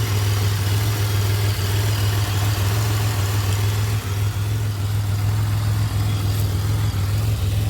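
A 2007 Pontiac Grand Prix engine idles steadily after an ICM harness replacement, a constant low hum with a strong even drone, close and unbroken, no voices.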